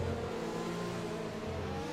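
Race car engines in a video game at Monza, with a Renault overtaking a Ferrari: a steady, moderately quiet engine drone holding a sustained tone with slight shifts in pitch and no clear pass-by peak.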